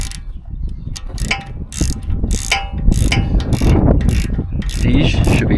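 Vice grips clamp and tighten the brake caliper bolts on a G82 BMW M4 during a track pad and rotor upgrade, giving repeated close metallic clicks and ratcheting scrapes over a steady low background, with no talk.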